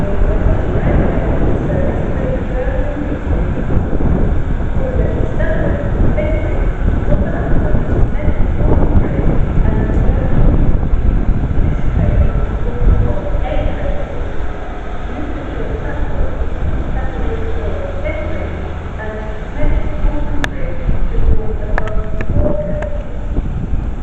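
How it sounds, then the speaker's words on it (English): Class 153 diesel railcar 153003 pulls out of Crewe station bound for Shrewsbury, a steady low rumble and engine drone running throughout, with wind buffeting and faint background noise. "This one is 153003 going to Shrewsbury."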